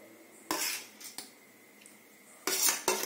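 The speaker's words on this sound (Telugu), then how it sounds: "చింతపండు గుజ్జు వేస్తున్నాను." Tamarind pulp is mixed into cooked rice on a plate with a utensil, giving a few short bursts of scraping and clinking against the plate separated by quiet pauses, close and fairly faint.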